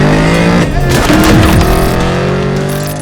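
A 2003 Ford SVT Cobra "Terminator" with 42,000 miles and mild modifications roars loudly on a test drive. Its engine note rises and falls through revs, close up, with no talk over it.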